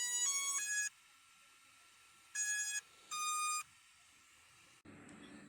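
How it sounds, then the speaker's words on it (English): An Exo BlackHawk 3 drone powers up with a set of clear electronic beeps: a stepped tone run, a short pause, then two more bursts of beeps, close and distinct, followed by a brief soft rustle. "I'll listen and hear the drone power up"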